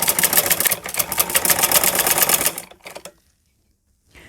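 A sewing machine runs steadily, stitching a straight seam along a salwar hem for about two and a half seconds before stopping, followed by a few faint clicks and near silence.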